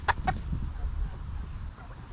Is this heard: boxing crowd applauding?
no